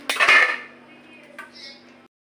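Potol malaikari is served onto a plate with a loud metal clank and a short scrape of a utensil at the start, a softer clink follows, and the sound then fades to quiet.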